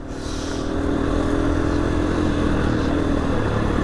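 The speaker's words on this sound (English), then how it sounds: "So I put the bike into mode 2, which is a little bit more responsive for off-road riding." A KTM 701 motorcycle runs in its more responsive off-road mode on rough trails, its engine droning loudly and continuously up close amid rumbling wind and clatter.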